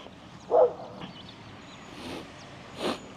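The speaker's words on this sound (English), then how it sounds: "Dog's having a good old time running around, barking at me." A dog out on a walking track at Goondi Bend near Innisfail, Queensland, gives a few short, fairly distant barks spaced over a few seconds amid quiet outdoor ambience.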